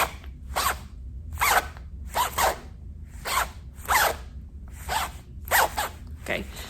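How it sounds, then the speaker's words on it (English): A zipper on a pink rain jacket is run up and down again and again, giving about a dozen short, raspy zips in a loose rhythm, close and distinct against a quiet background. "So this guy, my nice pink rain jacket, he has a zipper on him. If I can get the zipper to work."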